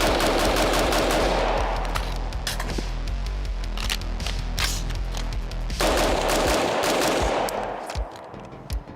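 Retro AR15 rifle fired unsuppressed in rapid strings of loud, sharp cracking shots with a short pause in the middle, the reports ringing out close and dense, no voices.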